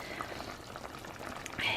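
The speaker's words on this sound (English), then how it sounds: "So now that it's boiling, I'm going to lower the heat" A pot of water with chicken boiling on a kitchen stove gives off a soft, continuous bubbling and hiss, faint and close, with a brief louder burble near the end.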